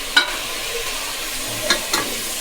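Tomatoes go into a frying pan with onion and green chilli for a chicken biryani. A soft sizzle runs throughout, broken by three short scraping stirs of a spoon against the pan.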